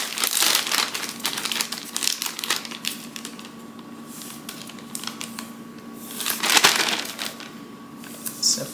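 Crinkly plastic bag handled up close, holding hot roasted poblano peppers, with rustling and crumpling bursts and a brief zipping rasp near the middle, continuing steadily throughout.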